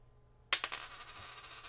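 Coins from a 1972-P original machine roll drop and clink together close by: a sharp first strike followed by a couple of quick bounces, then a faint ringing settle against a quiet background.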